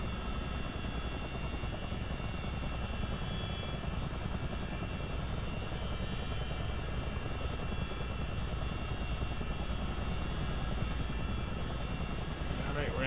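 A CH-47D helicopter in a multiplayer video game drones on without a break, a dense rotor and engine roar held at one level throughout.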